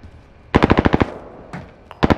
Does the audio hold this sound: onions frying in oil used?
no